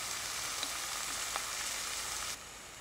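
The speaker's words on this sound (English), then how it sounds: "I'm also going to sear the sides of the steak real quick." Steak sears in a hot pan on a Redcamp wood stove outdoors, giving a steady, soft sizzle with a few faint crackles. The sizzle cuts out abruptly near the end.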